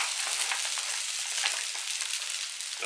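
Spätzle frying in a crowded pan outdoors during a lunch break on the Kaiserstuhl, a loud, steady bright sizzle with a faint crackle that runs unbroken from start to finish.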